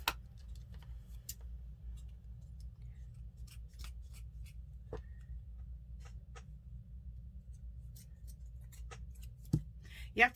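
Scissors snipping a piece of faux fur for a Dollar Tree DIY gnome hat: faint, sparse clicks and snips scattered over a low steady hum, with one sharper cut near the end.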